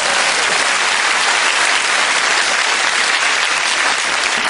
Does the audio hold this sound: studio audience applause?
yes